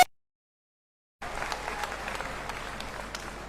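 Crowd clapping at a BJP political rally in India, breaking out after a second of silence and continuing as a steady, moderately loud round of applause.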